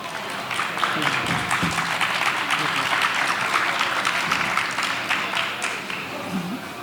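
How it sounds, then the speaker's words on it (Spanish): An audience at a book fair talk in Monzón, Aragón, gives a steady, even round of applause that lasts several seconds, with no talk over it. "Venga, gracias por todo y un aplauso para Enrique."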